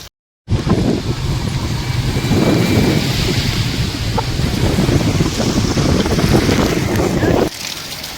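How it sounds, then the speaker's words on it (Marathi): Loud, roaring downpour of heavy first monsoon rain in Baramati, with gusty wind rumble, constant and close after a brief silent start, easing slightly near the end. "जबरदस्त पाऊस मित्रांनो चालला आहे"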